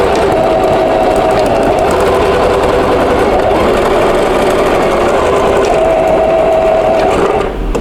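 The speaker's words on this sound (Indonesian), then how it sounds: "Yuk kita mulai menjahit." Sewing machine stitching the seam of a gathered skirt with a 2 cm seam allowance, a steady loud motor whir running continuously throughout with no talk.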